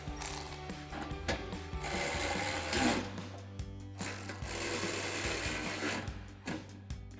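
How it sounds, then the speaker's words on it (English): A ratchet with a 14mm socket tightens bolts on a Jeep Gladiator JT during a Deegan 38 cold air intake install, giving close, loud bursts of rapid mechanical clicking with short pauses between strokes. "Now we can tighten those two bolts down with our 14mm socket."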